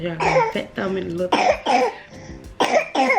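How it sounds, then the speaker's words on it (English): A baby gives a string of short, harsh coughs in quick bursts close by, while an adult's voice talks briefly between them. "Excuse my coughing baby"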